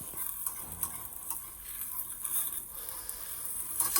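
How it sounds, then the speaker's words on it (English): Shredded potato hash browns fry in a pan after being flipped, giving a soft, steady sizzle with light scraping and clicking from a utensil, fairly quiet and with no talking. "After flipping it, we're just gonna fry it a little bit for a minute"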